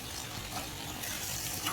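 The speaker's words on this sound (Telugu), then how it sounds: "వేగుతూ అంటే స్లో ఫ్లేమ్లో పెట్టి వేయించుకోవాలి" Okra sizzling in a pan over a low flame, a steady soft frying hiss with faint stirring, close and alone without voices.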